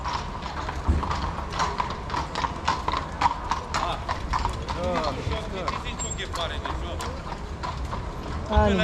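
Steady horse hooves clip-clop in a brisk rhythm as horses pull a carriage in Vienna, with creaking carriage mechanisms and people chatting throughout.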